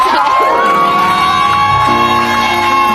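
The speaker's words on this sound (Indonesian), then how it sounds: "Tepuk tangan dulu dong buat tamu-tamu." A studio audience cheers and shouts loudly in a continuous roar, with whoops and a sustained tone running beneath it, near and dense for the whole stretch.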